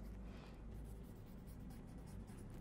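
A flounce line drawn on a fabric pattern, a faint continuous scratchy stroke of the marker or pencil against the material, low and steady under a constant background hum.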